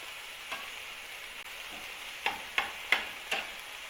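Chicken mince fries in oil with a faint, steady sizzling hiss. A few soft stirring clicks come near the end, and no one speaks.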